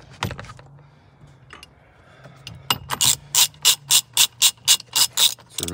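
A hand ratchet loosens the nut holding a Nissan steering wheel on its shaft during a clock spring replacement. A few faint clicks come first, then about ten loud, evenly spaced ratcheting bursts close to the microphone.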